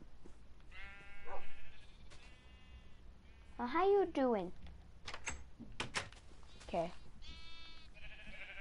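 Minecraft sheep bleat in short wavering calls during gameplay, mixed with a few clicks and door-like sounds, while someone talks over them.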